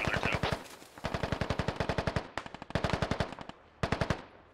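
The autocannon of a BTR vehicle fires incendiary rounds in a video game, loud rapid bursts of evenly spaced heavy shots, with brief pauses between bursts and a final short burst near the end.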